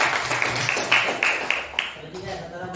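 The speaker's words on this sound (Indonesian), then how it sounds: "tepuk tangan untuk Pak" A group in a school coaching session claps for a male teacher, a brisk burst of applause with sharper individual claps that fades slightly toward the end.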